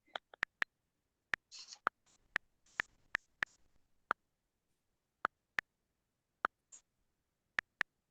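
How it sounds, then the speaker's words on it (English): Sharp isolated clicks, like keys being struck, tap out at an uneven pace with gaps between, plus a few soft rustling scrapes in a quiet room. "Or nope, I'll just have to keep typing"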